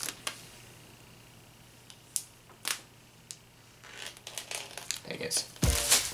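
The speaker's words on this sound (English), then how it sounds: "Okay, the shrink wrap's off." Shrink wrap peeled off a new MacBook: sparse sharp crackles at first, building into denser, louder crinkling and tearing toward the end, close up.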